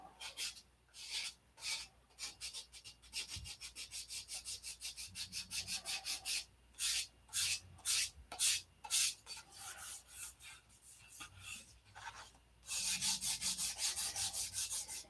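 Steady back-and-forth rasping of sandpaper on wood, close and regular, shifting between quick short strokes and slower longer ones.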